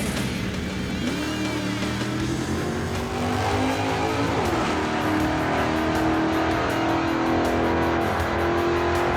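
A loud 1955 Chevy Bel Air gasser drag car engine roars continuously, its pitch climbing and revving hard, with a throbbing, raspy exhaust tone throughout and no talking.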